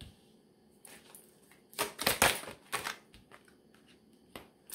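Tarot cards handled and shuffled close by, a burst of riffling flutters and soft slaps in the middle, with lighter scattered taps around it and no talk.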